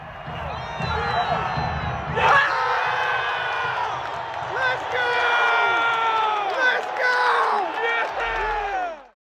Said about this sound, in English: the audience showing positive reinforcement by clapping their hands or cheering for the player